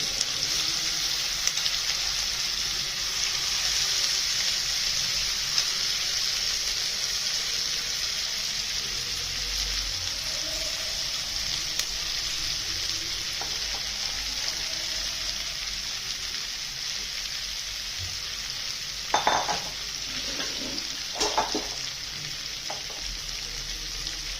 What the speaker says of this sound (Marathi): फोडणी चांगली तडतडली की त्याच्यामध्ये आपली जी शिमला मिरची केली ती फोडून घ्यायची